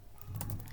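Quick keystrokes on a computer keyboard entering router configuration commands, a short burst of close, soft clicks with no voices.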